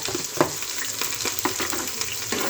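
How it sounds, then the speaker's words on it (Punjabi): Long-cut onions frying in smoking hot oil for an eggplant and pea dish, a steady close sizzle broken by sharp crackles and stirring clatters, with no talking. "ਸਭ ਤੋਂ ਪਹਿਲਾਂ ਅਸੀਂ ਪਾਵਾਂਗੇ ਪਿਆਜ਼ ਜਿਹੜੇ ਅਸੀਂ ਲੰਮੇ ਲੰਮੇ ਕੱਟੇ ਨੇ"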